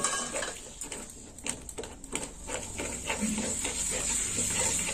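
A spoon scrapes and clinks against a pan as tomato paste is stirred into a cooking masala, with irregular knocks over a steady background hiss.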